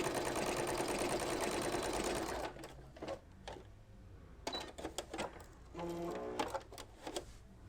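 A sewing machine runs a zigzag embroidery stitch in a steady, fast, loud burst, then stops into quieter clicks, handwheel taps and short bursts of stitching.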